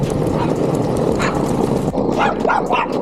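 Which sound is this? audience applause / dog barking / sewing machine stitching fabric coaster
dog barking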